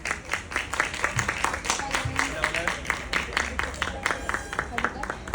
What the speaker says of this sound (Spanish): Por favor, démosles un gran aplauso.